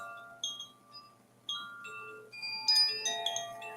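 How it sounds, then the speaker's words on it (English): Wind chimes ring in a morning setting, a few separate bright metallic tones at first, then a fuller cluster of overlapping shimmering notes that sustain and fade, moderately close and alone. "our chimes want to talk this morning"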